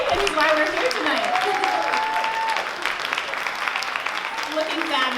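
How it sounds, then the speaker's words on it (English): An audience at a fashion runway show gives a dense, sustained round of clapping and cheering that fills the room loudly for several seconds. "Big round of applause for David, who's why we're here tonight."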